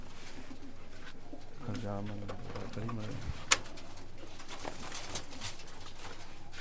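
Pigeons coo faintly in a short run of soft, repeated calls against quiet background noise, with a sharp click partway through.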